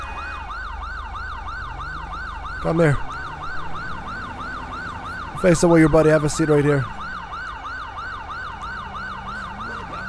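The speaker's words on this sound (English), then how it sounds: "I need to go shut the siren off in my car," A police car siren in GTA 5 wails in a steady, continuous up-and-down sweep throughout, with a man giving brief orders over it in two short bursts.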